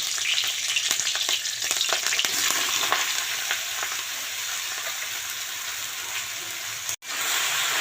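Bottle gourd fries in a pan with green chili and bay leaf in hot oil, a steady close sizzle with stirring scrapes, briefly cut off near the end before resuming.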